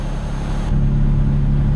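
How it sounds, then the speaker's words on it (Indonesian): A Mercedes-Benz Actros truck engine in Euro Truck Simulator drones steadily under strain while hauling a long double trailer at cruise speed, a loud, constant low rumble with no break. "Ini mesinnya agak-agak kerasa kedengeran ngeden ya"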